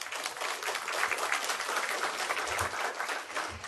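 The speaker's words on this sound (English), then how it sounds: "Let's give a round of applause to our sponsors" Conference audience applauding the event sponsors, a dense sustained round of clapping from a sizable crowd, close and even in loudness from start to finish.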